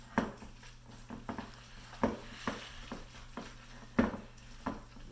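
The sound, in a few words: mixing pimiento cheese ingredients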